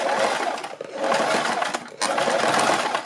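A sewing machine stitches the neckline of a kurti, running close and loud in steady bursts with two brief pauses.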